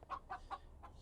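A chicken in the virtual reality video game Wayward Sky gives four short, soft clucks in a quick, uneven rhythm, faint and without talk.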